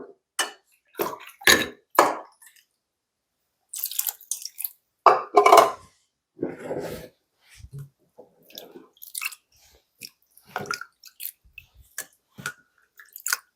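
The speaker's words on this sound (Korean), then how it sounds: "무도 한번 헹궈 볼게요" Radish rinsed by hand in a basin while making mul-kimchi, with intermittent splashing, dripping and squishing bursts close by, separated by short pauses.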